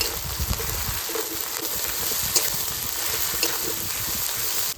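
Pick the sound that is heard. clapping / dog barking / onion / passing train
onion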